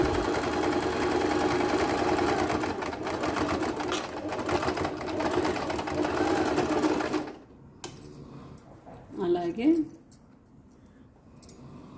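A sewing machine runs steadily, stitching the seam of an envelope pillow cover for several seconds, then stops; a voice speaks briefly afterward.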